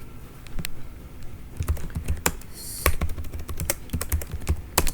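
Close computer keyboard typing of a terminal command on Ubuntu, quick irregular key taps with a few sharper strokes, alone without speech.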